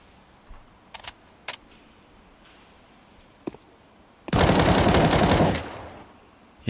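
Weapon spray in a Counter-Strike professional esports match: a few isolated sharp clicks and shots, then a loud sustained burst of rapid automatic gunfire lasting about a second before it cuts off.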